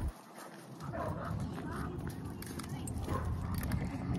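American Bandog dogs barking close by, short rough barks and shuffling mixed into a busy, noisy background with indistinct voices.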